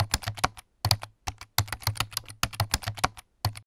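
Fingers type code on a computer keyboard in quick, close bursts of crisp clicking keystrokes separated by brief pauses, with no voices.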